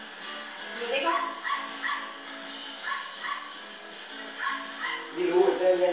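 A dog gives a run of short yips and whimpering barks, repeated in quick bursts at close range over steady background noise, with people talking nearby.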